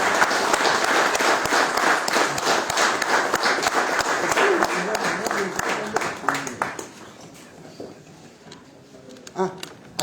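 Applause from an audience at a talk, dense clapping filling the first six seconds then thinning out and fading to scattered claps.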